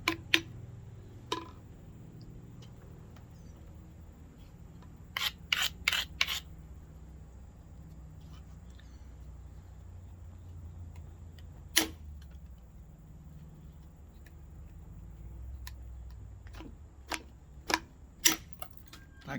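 Sharp knapping strikes on a Citronelle petrified wood point ring out in scattered clusters, crisp close clicks and taps spread over a quiet background, some in quick runs of three or four.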